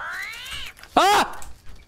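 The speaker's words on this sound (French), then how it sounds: "Mais c'est quoi ça, c'est un chat?" A cat meows in a jungle survival game: a long drawn-out wavering call, then after a pause a shorter, louder, sharply bending meow, close and prominent with no talking.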